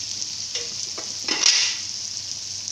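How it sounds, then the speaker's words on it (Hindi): Dal frying in a pan with turmeric and salt, giving a steady broad sizzle throughout with a few brief stirring scrapes and a louder surge of sizzling near the middle. "अब इसको अच्छी तरह भून लेना है।"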